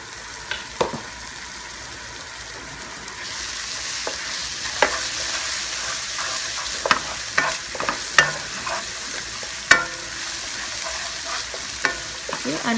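Garlic-ginger paste sizzles in a pan for Gujarati khichro, with a steady fry hiss and repeated clicks and scrapes of a spoon stirring, close and without talk.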